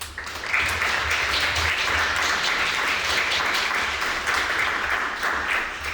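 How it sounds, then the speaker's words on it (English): A crowd applauds steadily, a dense wash of many hands clapping that swells in quickly and holds at an even level throughout. "Please give her a round of applause and give her a warm welcome."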